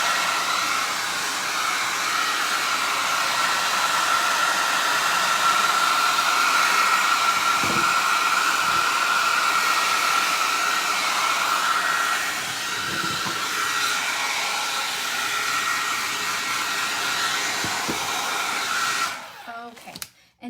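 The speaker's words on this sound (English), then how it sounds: "I'm going to hit it with a little bit of my my hair dryer" A hair dryer blows steadily at close range with a constant whooshing hum, running alone for a long stretch before cutting off at the end.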